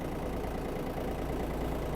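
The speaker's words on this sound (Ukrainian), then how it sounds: "Заводиться трактор дуже легко." A Yanmar AF-22 Japanese mini tractor engine idles in a steady, even low rumble, close and continuous with no talking over it.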